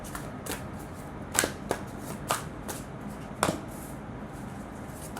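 Tarot cards are shuffled and drawn, a close, soft riffling broken by several crisp snaps and flicks as cards are pulled from the deck, with no talk.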